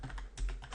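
Quick clicking of keys on a computer keyboard, a short close burst of typing with no voices.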